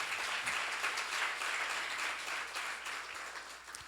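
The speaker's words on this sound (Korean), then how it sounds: "그게 맛있는 거면 시험 박수하세요." A church congregation at a seminar applauds with dense, steady clapping that fills the whole stretch, fading slightly toward the end, with no voice over it.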